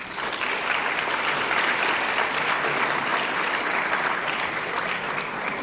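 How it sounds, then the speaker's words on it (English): Steady, even applause fills the hall at a high school fall sports awards ceremony as the coaching staff is honoured, a thick, unbroken patter of many clapping hands throughout. "I certainly want to give them a round of applause."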